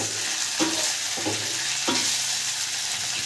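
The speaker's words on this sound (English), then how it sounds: "So I've added in some freshly ginger, some garlic, green chilies, and we are going to saute it for about 30 seconds." Ginger, garlic and green chilies sauteing in a pan for a paneer curry give a steady close sizzle, with a few soft stirring scrapes at intervals and no talk.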